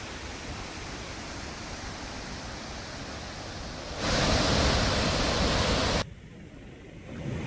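The Devghat waterfall in Surat district, overflowing after heavy monsoon rain, gives a loud continuous roaring rush of water that surges even louder for a couple of seconds before easing back.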